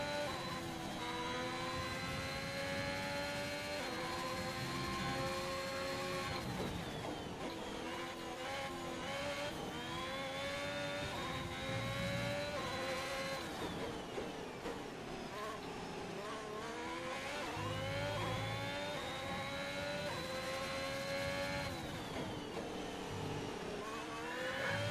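A Formula 1 racing car in a video game howls at high revs, rising through the gears and dropping in pitch before climbing again, loud and continuous with repeated upshift sweeps.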